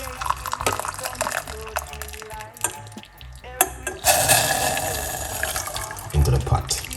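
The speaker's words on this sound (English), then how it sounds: "pour 1 cup of hot water." Hot water pours and splashes into a pot, a steady close-up stream after a few clinks and handling sounds, with a voice talking briefly.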